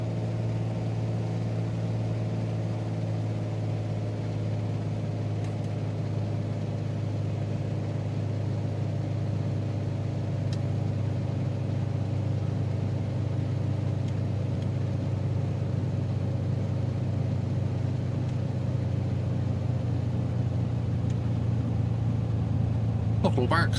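A steady, droning piston engine of a Piper Archer II in a flight simulator, a constant low hum with even tonal layers that holds unchanged throughout, loud and close.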